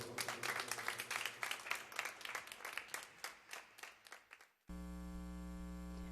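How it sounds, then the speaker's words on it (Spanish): A crowd applauds with dense, steady clapping that fades out, followed abruptly by a loud, sustained electrical hum. "Fuerte el aplauso para Samuelito."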